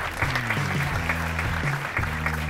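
A comedy club audience claps warmly for a performer at a live stand-up show, a dense burst of applause lasting a couple of seconds.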